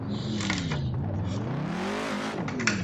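A Ford Mustang race car laps a track, its engine climbing and falling in pitch through gear changes, heard steadily from on board with a brief tire sound near the end.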